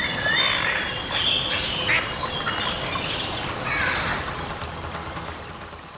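Rapid quacking from a duckling seized by a heron, several urgent calls over a low, rough outdoor background.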